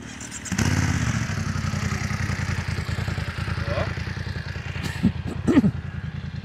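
A Suzuki GSX-S GT motorcycle engine runs at a steady, throbbing idle close by, with a brief clattering knock and a couple of sharper blips near the end.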